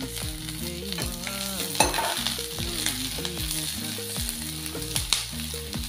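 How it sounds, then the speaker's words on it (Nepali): Onions frying in a pan for a paneer and peas curry, a steady close sizzle and crackle with occasional stirring, heard under light background music. "प्याजलाई चाहिँ राम्रोसँग फ्राई लानुहोस् त"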